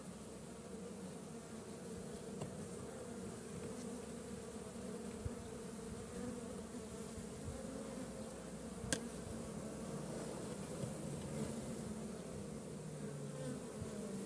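A swarm of honeybees arriving at a hive outdoors makes a dense, steady buzzing drone that fills the whole stretch, close and constant, with faint wind and no voices.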